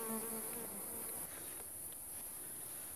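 A steady dense buzzing of many honey bees at a hive fills the air, a continuous insect drone with a high whine, fairly quiet and without voices.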